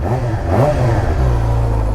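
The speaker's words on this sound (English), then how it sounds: "Ooh, that sounds nice. You know, for a stock exhaust, this is a pretty nice" A 2023 Suzuki GSX-R 600 motorcycle with its stock exhaust revs up close and loud, the engine note climbing and then settling into a steady, throaty drone.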